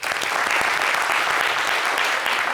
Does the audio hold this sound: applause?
yes